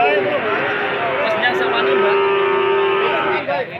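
A cow at a cattle market moos loudly and close by in a long drawn-out low call, with people talking nearby.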